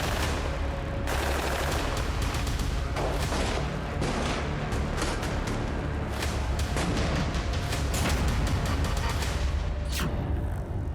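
Explosions and gunfire in Gaza in news footage, a loud, continuous barrage of rapid shots and booming blasts with rattling bursts throughout.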